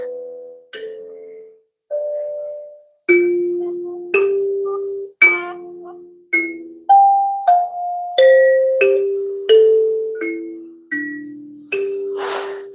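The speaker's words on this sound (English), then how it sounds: "it's just the thumb harp I'm playing for Max" Random notes plucked one at a time on a thumb harp, each a clear ringing tone that decays slowly, moving up and down in pitch at an unhurried, irregular pace, played alone and close.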